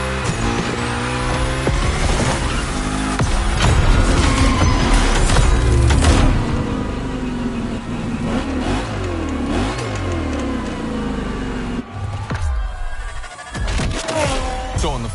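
A Mustang V8, the Unicorn Gymkhana car from The Crew Motorsport, revs and roars loudly with rising and falling engine pitch through shifts, dipping briefly before surging again, with some talk blended underneath.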